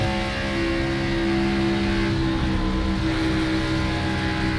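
A stock car racing at Michigan, its engine droning steadily and loudly as the driver feathers the throttle, a continuous engine roar with only slight shifts in pitch and no voices.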